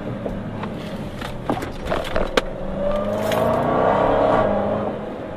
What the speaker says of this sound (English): That supercharger whine is absolutely awesome.